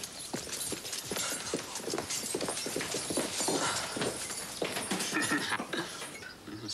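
Horses' hooves clip-clop steadily on the ground at a riding stable, a dense, close run of overlapping hoof strikes that continues throughout.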